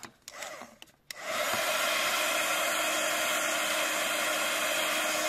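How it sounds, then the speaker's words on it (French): Heat gun switched on for embossing powder on a handmade card, a few clicks and handling sounds before a steady loud blowing whoosh starts and runs on unbroken. "Et maintenant on va embosser. Donc j'ai déjà branché le heat gun."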